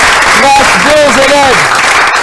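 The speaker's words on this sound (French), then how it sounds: "Est-ce qu'on peut applaudir pour ça?" Loud, dense applause fills the whole stretch, with a faint voice or tone rising and falling on top of the clapping.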